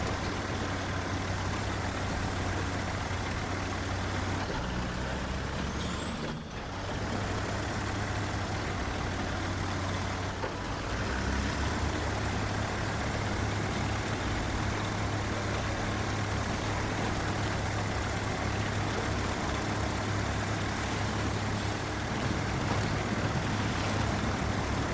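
A Kenworth truck engine in the video game SnowRunner drones steadily at a low idle-like rumble, continuous and fairly even throughout with a brief dip partway.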